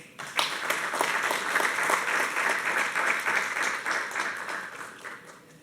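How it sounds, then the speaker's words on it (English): Sustained applause from a conference audience, dense and steady clapping that fills the room for several seconds before tapering slightly at the end, with no talking over it. "with a huge round of applause, please allow me to welcome the person that has made all of this happen, Dr. Eugene."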